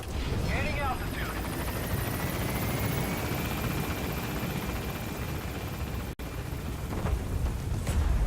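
Support helicopter lifting off in Metal Gear Solid V: The Phantom Pain, a steady loud rotor whine and wash throughout, with a brief dropout and a few muffled thumps near the end.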